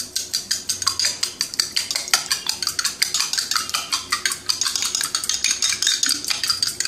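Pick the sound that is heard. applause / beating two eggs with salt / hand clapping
beating two eggs with salt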